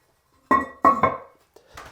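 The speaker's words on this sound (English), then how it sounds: "And now we just put on our lid" Ceramic toilet tank lid set back onto the tank after a flapper repair: three sharp clunking impacts in quick succession, fairly close, followed by a faint scrape, with no talk.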